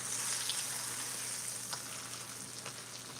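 Fish fillets fry in a pan with steady, close crackling sizzle of hot oil, an even hiss with small pops scattered throughout, no voices.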